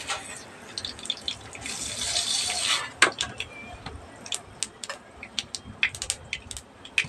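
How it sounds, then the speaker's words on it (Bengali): Black mustard seeds splutter and pop in hot mustard oil in a pan, a hissing sizzle followed by scattered sharp crackles and pops, close and fairly loud, with no talk. "সরষেগুলো ফটফট করে ফুটে উঠেছে"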